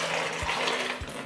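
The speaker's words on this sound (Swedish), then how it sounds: "Nu ska vi fylla i vatten här igen." Water is poured into a container for a home brewing experiment, a continuous rushing, filling gush at close range with two dull low knocks, and nobody speaking.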